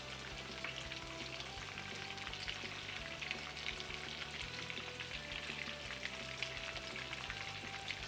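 Chicken and eggplant frying in oil in a pot give off a steady, even sizzle with fine crackles throughout, moderately close and uninterrupted, with no voices over it.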